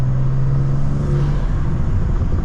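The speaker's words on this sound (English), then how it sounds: "I love the way the turbos sound" Turbocharged engine of a BMW G87 M2 fitted with a RaceChip GTS Black tune and Eventuri intakes, pulling hard under acceleration: a loud, steady in-cabin roar and whir with a sustained low drone, no talking.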